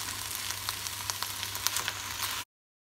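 Glass noodles sizzle and crackle in hot oil while being stirred in a pan, a close, steady fry with scraping pops, ending abruptly in silence.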